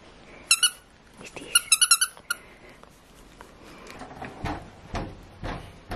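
Two quick bursts of high-pitched squeaks from a dog's Christmas squeaky toy, near and sharp, followed by softer thumps and handling noises.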